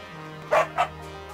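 A dog in the video game Nova Lands gives two quick, sharp barks close up, the second slightly softer, over a low steady game hum.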